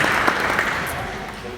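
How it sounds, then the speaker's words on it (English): A church congregation applauds in a sanctuary, a steady wash of clapping that stays fairly even and gradually fades, with a faint voice underneath. "So give yourselves a round of applause because you are the most beautiful looking congregation."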